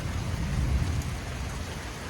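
Rain pours down steadily during a severe thunderstorm, a dense close hiss of heavy downpour with a faint low rumble underneath.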